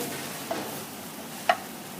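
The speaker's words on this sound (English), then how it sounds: "First, little bit of brown the garlic." Garlic browning in a hot, smoky sauté pan gives a faint, steady sizzle, broken by two light clicks of a utensil against the pan.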